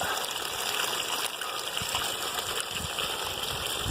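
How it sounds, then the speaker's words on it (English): A tiny one-foot waterfall where water seeps from the ground beside a mountain trail on Mt. Whitney splashes in a steady, close rushing wash, with no talk over it. "It's a 1-foot waterfall."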